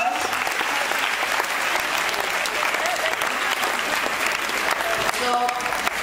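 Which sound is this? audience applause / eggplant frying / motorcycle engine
audience applause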